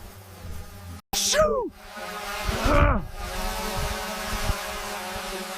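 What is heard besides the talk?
drone buzzing like an angry bee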